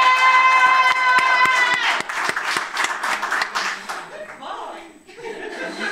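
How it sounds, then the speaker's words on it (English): A graduation ceremony crowd gives a round of applause for a cum laude diploma graduate. It opens over a sustained musical tone, then builds into sharp, dense clapping mixed with chuckles and scattered voices, before thinning toward the end. "I would like you all to please give Grant an additional round of applause and shouts"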